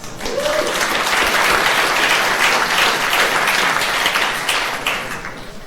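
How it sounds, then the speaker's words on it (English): An audience at a tech meetup breaks into a warm round of applause, dense, steady clapping from a crowded room that holds for several seconds and then starts to taper off. "Let's give Tom a warm round of applause."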